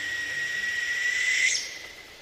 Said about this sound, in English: matched the call to a northern hawk owl, a medium-sized owl that lives in northern boreal forests